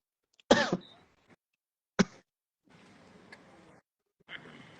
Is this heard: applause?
no